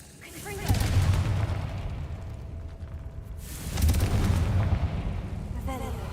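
Two heavy booming blasts from the Confringo fire spell in a Harry Potter video game, each a sudden loud explosion followed by a long rumbling roar, with faint game sounds between.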